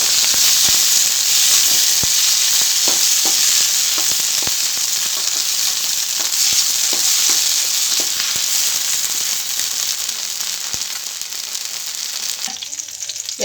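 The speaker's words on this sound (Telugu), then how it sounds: "మెంతికూర వేసుకున్నాక పచ్చిమిర్చి మనకు మిరపకాయలు తోలి మాడేదాకా వేసుకోవాలి" Green chillies fry with fenugreek leaves in a pan, making a loud, continuous close-up sizzle with steady crackle and occasional sharp pops throughout.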